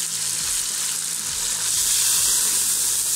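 Onions fry in hot oil for a chickpea pulao, making a dense, steady, close sizzle that holds for the whole stretch with no talk.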